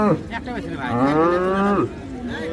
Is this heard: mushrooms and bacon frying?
no